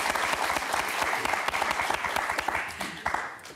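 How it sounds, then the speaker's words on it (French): A full studio crowd claps hard on the French television word game show Motus, a thick, even roar of applause that holds at high level for the whole stretch and tapers a little at the close, with no talk over it. "Jean-Pierre, Michel, un tonnerre d'applaudissements."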